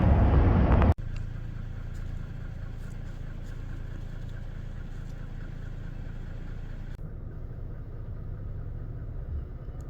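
A car drives in early morning toward a Skyline Drive trailhead, heard from inside as a steady low engine and road rumble after a brief loud burst at the start, with no talking.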